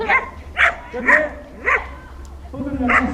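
At a pet agility event, a dog gives several sharp, yippy barks spaced about half a second apart, close by, while people talk over the noise.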